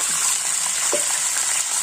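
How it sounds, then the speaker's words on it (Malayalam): Mustard seeds in hot oil for a coconut fish curry give a dense, constant hissing sizzle with a few faint pops, close and fairly loud, with no voices. "ഇനി നമുക്ക് കടു പൊട്ടിക്കാം"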